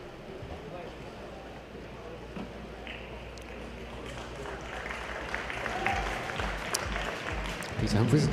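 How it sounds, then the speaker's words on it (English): A crowd applauds a masters cyclist after a close sprint win at a world masters track event. Steady clapping runs throughout and swells toward the end, heard beneath a commentator talking. "Peter Humphreys acknowledging the applause of our crowd here"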